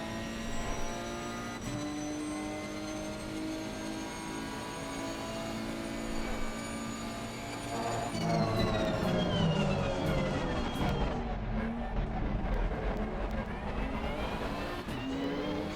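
Car engine in a sim racing video game, a steady droning note with rising and falling harmonics as revs climb and gears change, loud and continuous throughout with no talk.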